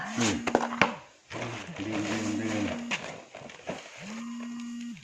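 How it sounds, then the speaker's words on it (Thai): Cattle moo several times nearby on a farm where mushrooms are being cultivated, deep drawn-out lowing calls that recur through the scene, mixed with clattering and people talking. "จ้ะวัว"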